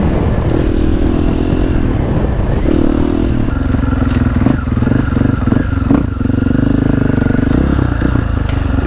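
A sport motorcycle engine runs loudly up close, its throaty drone rising and falling as the throttle shifts, with some clatter around it.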